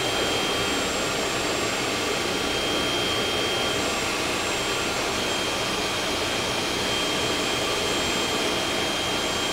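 A motorized football spins in a laboratory Magnus effect demonstration, giving a constant, loud, even whirring hum with a high-pitched whine that runs unchanged for the whole stretch, with no talk.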